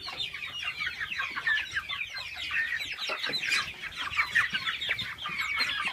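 Month-old chickens in a farm flock clucking continuously for several seconds, a busy chorus of overlapping short calls at moderate distance with no talk.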